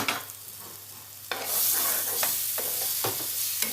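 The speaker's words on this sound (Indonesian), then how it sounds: "tinggal ditumis sampai harum" Blended spice paste for beef rawon sizzles in a pan, the hiss swelling loudly once it hits the hot oil, with several sharp scrapes and knocks of a spoon stirring it up close.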